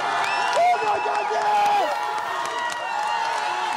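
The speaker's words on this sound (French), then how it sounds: "la foule explose de joie" A dense crowd roars and cheers with joy at the Champs-Élysées roundabout by the fountains, steady and loud, with scattered whoops and shouts rising above the mass.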